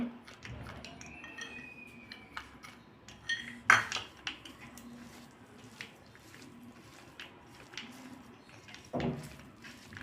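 Spoon mixing a fasting kachori filling of coconut, grated potato, raisins and cashews in a metal bowl, soft scraping and stirring with an occasional sharp clink against the vessel, quiet and close.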